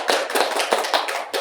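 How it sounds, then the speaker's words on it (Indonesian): Classroom applause for a student: a short burst of brisk clapping from a small group of hands, close and lively, with no talk. "Ayo beri tepuk tangan pada Susina."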